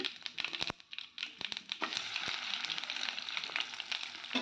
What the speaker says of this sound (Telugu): చిన్నపాయలు బాగా వేగాలి కాబట్టి ఈ ఆయిల్లోనే వేసుకోవాలి